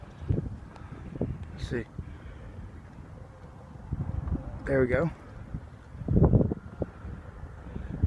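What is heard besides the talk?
wind blowing outdoors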